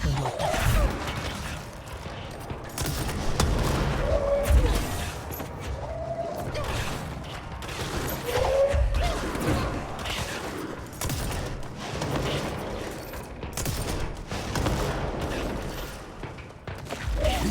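Rapid gunfire from a mold-infested shooting enemy in the video game Control, repeated bursts of shots and mechanical clatter recurring throughout over a rumbling ambient background.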